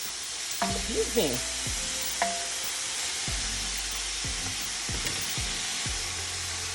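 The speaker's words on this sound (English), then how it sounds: "We're going to saute this meat." Meat sautes in oil in a pan for a Creole soup, giving a steady hiss and sizzle broken by clattering stirring scrapes, with a brief spoken voice.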